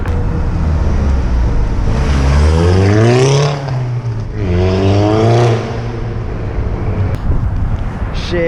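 A Mk6 Volkswagen GTI engine with a catless downpipe revs loudly twice in long rising and falling surges, close by, with wind buffeting the microphone.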